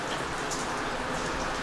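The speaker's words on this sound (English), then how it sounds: "of course we got rain today" Steady rain falling outside a garage during repair work on a 1973 Mach 1 Mustang with a 351 Cleveland, a continuous even patter filling the whole stretch with no voices.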